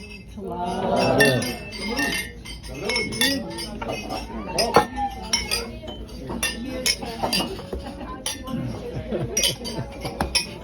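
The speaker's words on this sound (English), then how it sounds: "as we raise our glasses, let us toast Terri and Dad" Glasses clink repeatedly during a wedding toast, bright scattered chimes of glassware and some cutlery over a murmuring crowd of guests talking.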